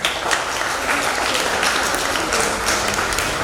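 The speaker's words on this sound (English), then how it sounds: "deserves a big round of applause" Warm applause from an audience honouring an author at a literary event in Jalandhar, dense continuous clapping at steady strength throughout, close and full.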